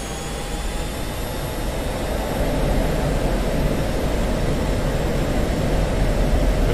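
Steady, loud roar of an F-16C jet engine during takeoff and climb in the flight simulator DCS World, a continuous broadband rumble that grows slightly louder partway through.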